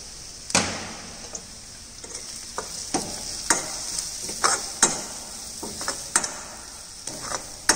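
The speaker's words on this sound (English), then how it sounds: "Lightly saute in oil" Powdered masala, red chili, coriander, turmeric and garam masala lightly sautéing in oil, a continuous close sizzle broken by repeated sharp stirring clacks and scrapes of a utensil against the pan, no voices.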